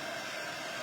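A handheld quick dry craft tool blows air in a steady, even whoosh like a hair dryer, a continuous hiss of noise with no breaks and no voices.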